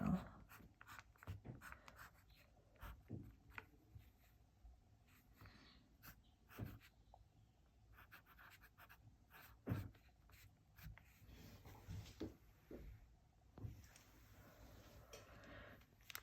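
A pen writing in a paper journal, close and quiet, with scratchy strokes and soft taps coming in short irregular bursts and pauses, no talking.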